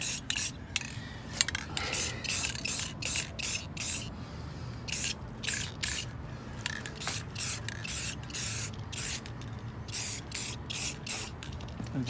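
Aerosol coating sprayed onto the exhaust hangers of an Acura TSX CL9 fitted with a DNA Motoring cat-back system, in many short hissing bursts with brief gaps between them, close and steady.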